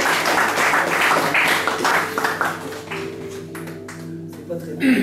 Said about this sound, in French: Et on peut l'applaudir tout autour